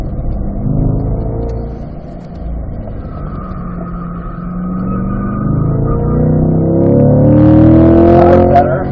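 A car driving laps on a race track, its engine droning steadily close by and then rising in pitch and loudness near the end as it accelerates out of a corner.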